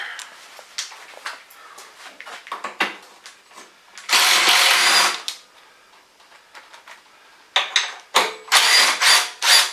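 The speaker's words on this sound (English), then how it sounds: "we'll just go ahead and use the impact since it's making life so much easier" Impact wrench removing 10 mm bolts from the rack of a Honda 300 Fourtrax 4x4 ATV, heard as loud bursts of whirring and hammering that stop and start at close range, with quieter clicks and handling noise in between.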